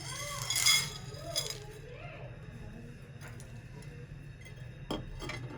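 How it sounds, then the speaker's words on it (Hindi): Whole cinnamon, green and black cardamom pods and bay leaves dry-roast in a pan, with a bright clink near the start and light intermittent ticks of spices and utensil against metal over a faint, steady background. "हमारे साबुत मसाले हम भून रहे हैं"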